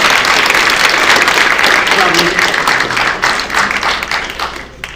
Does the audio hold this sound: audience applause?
yes